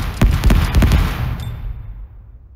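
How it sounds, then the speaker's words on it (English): Splinter grenade detonating in the video game Spectre Divide, a loud, close burst of rapid cracking blasts that fades out over about two seconds. "Throwing Splinter! Splinter grenade out."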